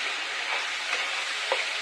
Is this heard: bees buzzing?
no